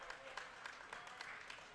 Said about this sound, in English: the fans applauding Potomac Patriots, victors in this one